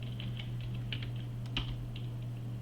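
Fingers type on a computer keyboard at a desk, with quick, irregular clusters of soft key clicks close by, a faint steady hum underneath and no voices.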